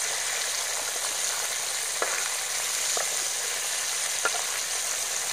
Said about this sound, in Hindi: पूरे फिश भी अच्छे तरीके से पूरा फ्राई हो रहा है